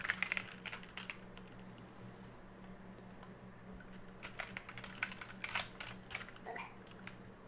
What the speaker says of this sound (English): Is the typing test over?